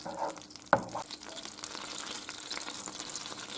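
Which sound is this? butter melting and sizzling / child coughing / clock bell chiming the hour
butter melting and sizzling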